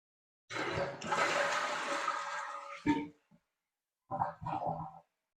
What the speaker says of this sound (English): The flush begins when you push the handle.